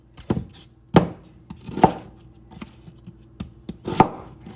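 Kitchen knife chopping an onion on a cutting board, a handful of separate crisp knocks with short pauses between them, close and clear with no voice.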